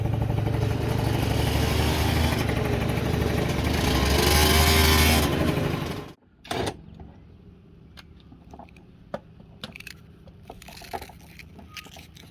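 A repaired Yamaha Aerox scooter engine runs loudly and steadily up close for several seconds, then cuts off abruptly, leaving scattered clicks and clatter.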